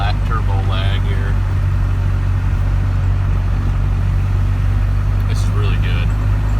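Cummins diesel truck engine that won't rev over 2000 rpm, a loud steady low drone from inside the cab while cruising in a higher gear, with someone talking over it.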